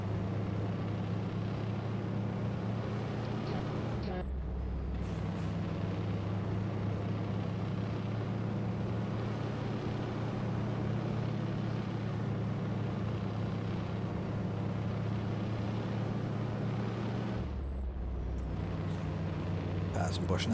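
A heavy truck engine in the American Truck Simulator game drones loudly and continuously, with two brief dips where the sound drops out momentarily.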